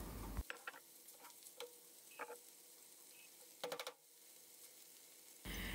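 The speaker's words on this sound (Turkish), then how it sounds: "kıymayı tane tane olana kadar karıştırarak kavuruyorum." Minced meat fries in a pan while being stirred until crumbly, giving a faint, quiet sizzle broken by scattered scraping stir strokes and clicks, with no voices.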